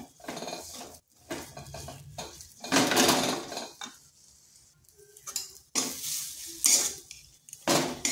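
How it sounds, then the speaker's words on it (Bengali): Potato cubes stirred and fried with spices in a pan for a Bengali potato bomb snack: repeated bursts of a spatula scraping and clattering against the metal pan, with soft sizzling between strokes and no talking. "আলুটা বেশ ভালো করে এই মশলার সাথে কষে নিচ্ছি। এভাবে নাড়তে নাড়তে বেশ একটু শুকনো শুকনো হয়ে যাবে।"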